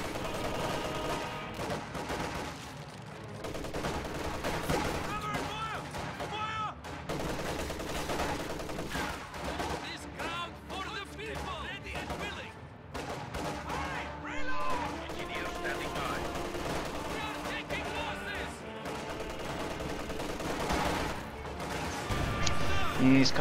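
Gunfire in a World War II real-time strategy game match, with an MG34 machine gun, anti-tank rifles and Molotovs, a dense continuous clatter of bursts and crashes under a commentator's steady talk throughout.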